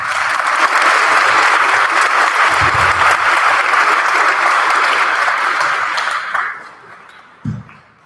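An audience applauds to welcome a guest speaker from the Canadian Mental Health Association, a loud, steady wash of clapping that holds for about six seconds before thinning out, with one last short burst near the end.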